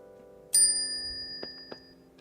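A single bright bell chime rings out clearly and rings on, followed by two soft clicks, over faint background music.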